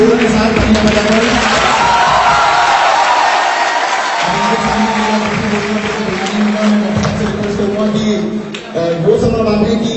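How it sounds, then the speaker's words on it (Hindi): Audience at a kavi sammelan poetry gathering applauds for poet Dr. Kumar Vishwas, a loud, dense, steady wash of clapping and crowd noise sustained throughout, with voices mixed in. "मैं चाहता हूँ सबको पूरी जोर के साथ तालियां बजाकर"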